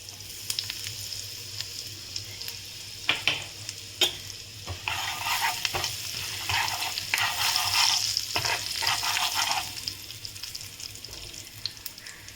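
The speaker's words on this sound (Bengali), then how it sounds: "এবারে আমি জিরে আর হিং এটা আমি ফোড়ন দিয়ে দিচ্ছি" Cumin seeds and asafoetida sizzle in hot oil in a nonstick pan, a steady frying hiss with bursts of crackle and a few scraping stirs, close and continuous with no talking.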